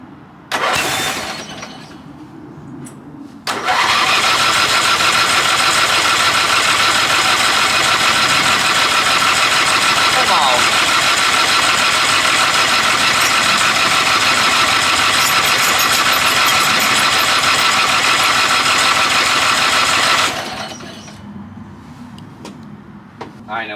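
A Yard Bug riding lawn tractor mower engine cranks and catches, then runs loud and steady at idle for about seventeen seconds before cutting off, with quieter shuffling before and after.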